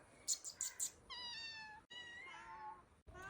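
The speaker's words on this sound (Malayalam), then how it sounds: "അപ്പോൾ എൻ്റെ പൂച്ചക്കുട്ടികളെ കാണിച്ചു തരട്ടെ" Kittens mew faintly, first in three quick high squeaks and then in longer drawn-out cries, with no talking over them.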